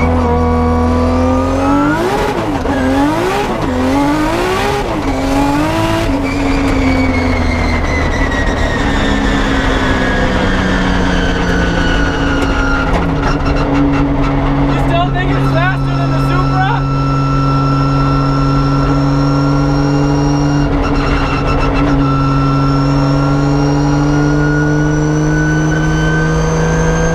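A 1000hp 2JZ-swapped Nissan S15 pulls hard through the gears, its engine rising in rapid revving bursts before settling into a steady drone with a whining, noisy transmission, loud and close from inside the cabin.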